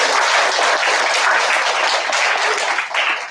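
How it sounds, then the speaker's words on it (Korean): Congregation in a church breaking into loud, sustained applause, a dense wash of many hands clapping steadily throughout with no talk over it. "응원의 박수를 부탁드리겠습니다."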